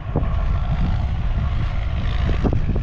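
A New Holland 6640 tractor plows a field, its engine giving a loud, steady, close-up low rumble with a slight throb that holds throughout, with no voices.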